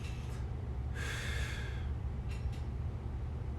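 A deep breath drawn in during a hip and adductor mobility stretch, a soft airy inhale rising around the one-second mark and lasting under a second, followed by two faint shorter breaths, close and quiet over a steady low hum.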